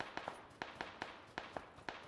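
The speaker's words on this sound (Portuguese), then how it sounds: "É em você esse tiro, Lampião?" Rapid gunfire in a video game, about eight sharp, evenly spaced shots in quick bursts, fairly close and crisp with no talk over it.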